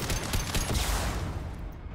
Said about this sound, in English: I need to stop peeking when she's firing rockets.